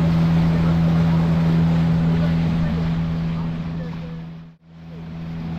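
A motorboat runs over the sea off Gokarna beach, its engine a loud, steady drone with rushing water and wind. The drone continues throughout and drops out briefly near the end.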